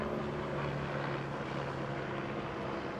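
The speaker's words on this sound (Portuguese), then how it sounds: "O helicóptero passou aqui baixinho aqui, ó." A helicopter passes low over a viaduct construction site in Belo Horizonte, Brazil, producing a steady, loud rotor and engine drone that fills the whole moment without voices.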